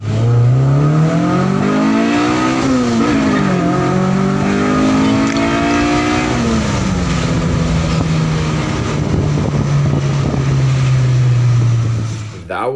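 Modified 1999 Honda EK Civic SiR with a built B18C1 GSR engine pulling hard through the gears, loud and close, engine note climbing and dropping with shifts and sustained revving throughout.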